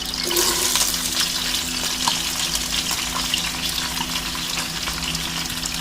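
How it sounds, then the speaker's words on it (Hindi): Onions hitting hot oil for balti gosht give a steady, even hiss of frying that stays loud and constant from start to finish, with no voices over it. "तो साथ में इसके प्याज डालते हैं प्याज"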